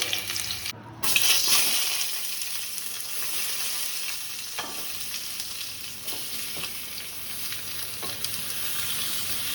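Onions and tomatoes frying in a pan give a steady, close sizzle that runs throughout, with a few sharp clicks from stirring and a brief dip in the sound near the start. No one speaks.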